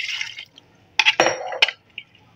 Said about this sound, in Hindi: अब इसमें पानी शामिल कर देंगे, पानी हमने इसमें इतना डालना है कि जो वो गोश्त है वो अच्छी तरह इसमें डिप हो जाए